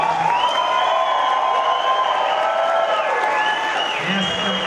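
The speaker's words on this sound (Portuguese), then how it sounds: "Palmas para a Osana" Applause and cheering fill the hall at a choir's CD launch show, steady clapping with high whistles sliding over it and a few voices calling out near the end.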